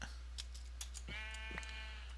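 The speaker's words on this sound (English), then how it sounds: "Killing all the sheep is evil." A single sheep in a video game gives one wavering bleat midway, fairly faint, over a low steady hum and a few soft clicks.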